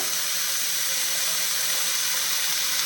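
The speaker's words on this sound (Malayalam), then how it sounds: "അതിന് ഒരു രണ്ട് കപ്പ് ചൂടുവെള്ളം ചൂടുവെള്ളമാണ് ചേർക്കുന്നത്" Boiling hot water poured into roasted semolina while making upma, a steady hissing, rushing pour with steam heard up close and continuous for the whole stretch, with no talking.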